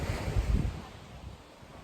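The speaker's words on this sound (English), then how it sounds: "This is at the beach this morning." Surf at a beach on the coast of South Lefroy, Waroora Station, a soft low rush of waves swelling and easing, with light wind buffeting the microphone and no voices.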